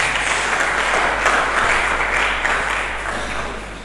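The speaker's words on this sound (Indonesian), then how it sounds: "Mari kita berikan tepuk tangan bagi Yesus" A church congregation applauds for Jesus during a sermon, a loud, full burst of many hands clapping that holds steady for several seconds before starting to fade.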